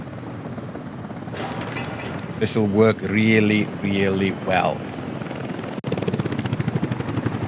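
A steady rhythmic rotor chop of helicopters in the game Workers & Resources runs throughout, with someone talking over it in the middle and a brief cut before the chopping continues more sharply.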